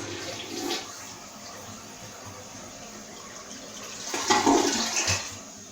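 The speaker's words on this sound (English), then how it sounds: "flushing the toilet." A household toilet flushes in a bathroom being cleaned, a brief splash early on, then a louder gushing rush of water near the end, with no talk over it.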